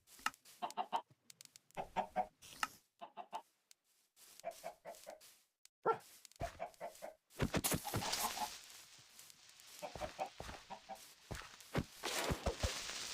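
Repeated clucking of chickens in Minecraft, short bursts coming in quick succession with scattered clicks and rustling, growing busier and noisier toward the end as the chickens are fed.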